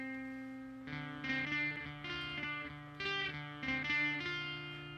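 Guitar melody played through a Behringer DR600 digital reverb pedal, sustained chords and notes ringing out with a lingering reverb tail, moderately quiet and alone.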